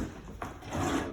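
Drawers in an emptied rental kitchen are slid open and shut, giving soft wooden scrapes and a light knock, fairly close and quiet with no talking.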